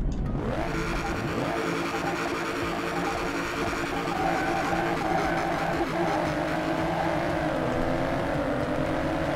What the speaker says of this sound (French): On va voir si le bruit, le moteur il fait autant de bruit.